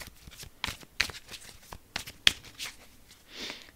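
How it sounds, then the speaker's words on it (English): A deck of cards is shuffled by hand in a series of quick riffles and soft slaps, close and fairly quiet, with no talking. "Okay, I'm going to shuffle this up."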